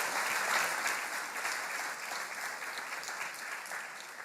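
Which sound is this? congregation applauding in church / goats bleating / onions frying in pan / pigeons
congregation applauding in church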